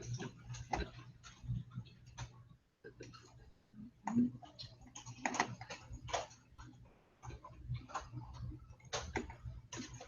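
Keys clack on a computer keyboard in quick irregular bursts, close and fairly faint, with a short pause partway through and a steady low electrical hum underneath.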